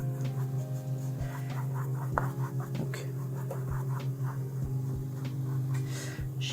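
Rough brush strokes spreading paint for an abstract painting, soft scratchy swipes in an irregular rhythm, close and quiet over a low steady hum.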